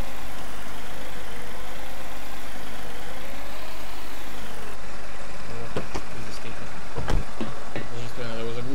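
A tractor engine idles with a steady drone in the farming simulator game Farm Expert 2017, followed by a few clicks and a sharp clunk near the end, heard alone without talk.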